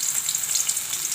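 Onions and curry leaves fry in hot oil for vendakkai pachadi, a close, bright, crackling sizzle that holds steady throughout.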